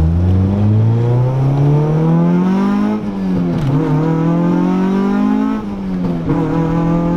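A big-turbo Suzuki Cappuccino engine revs loudly and up close, its pitch climbing steadily, dropping near three seconds, then rising again before another brief dip, a sustained harmonic drone with no voices.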